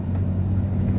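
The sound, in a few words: big rig truck engine and road noise while driving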